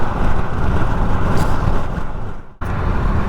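Loud, steady rushing wind roars into a Skoda Enyaq cabin through a lowered window with no wind deflectors, broadband and unbroken apart from a sharp momentary dip near the end.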